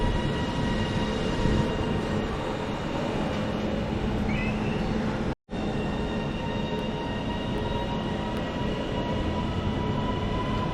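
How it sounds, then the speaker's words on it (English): Class 331 electric multiple unit 331-016 at Bolton station, a steady rumbling hum of the train with a brief cut in the middle, no talking. "the first on-time train of the video, 331-016"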